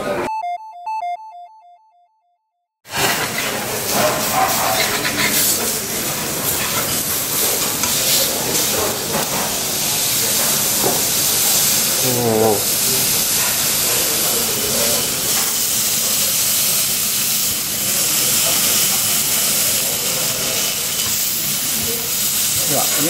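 Hamburger steak sizzling loudly on a hot iron plate as onion sauce is poured over it, a steady close, intense hiss that swells at once after a brief silence and stays dense throughout, with faint voices under it.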